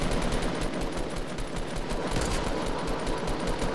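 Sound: gunfire in a video game

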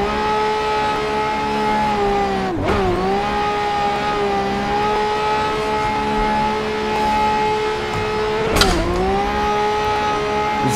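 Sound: Lamborghini drift car engine upshifting in a drifting simulator video game

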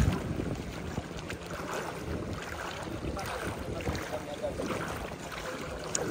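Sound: boat on the water

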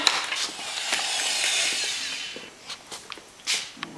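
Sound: driving screws into wood on boat transom

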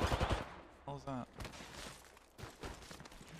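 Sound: gunshots in a video game

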